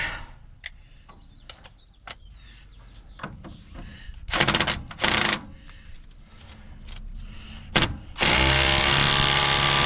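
An impact wrench working on the ball joints of a 1992 Dakota: scattered clicks and knocks, then two short loud bursts, followed by a sustained, even whirring rattle in the final seconds.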